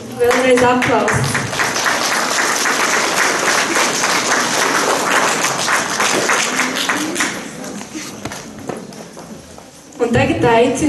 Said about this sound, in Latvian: Vēlreiz aplausus.